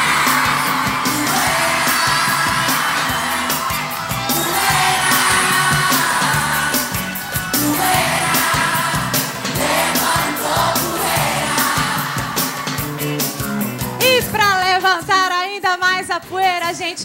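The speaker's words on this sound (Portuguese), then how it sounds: "Cadê o grito da galera?" Studio audience on a Brazilian TV show shouting, whooping and cheering in a loud sustained roar with banging, followed by a burst of high-pitched screams and yells near the end.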